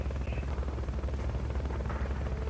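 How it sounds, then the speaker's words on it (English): Helicopter rotor noise from the Fulton recovery helicopter in Metal Gear Solid: Peace Walker, a continuous low chopping drone at moderate volume that persists evenly throughout with no voices. "Fulton recovery helicopter is complete."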